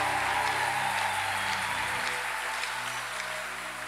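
A church congregation breaks into loud, sustained applause and acclamation for the Lord, a dense wash of many hands clapping together that slowly thins as it fades.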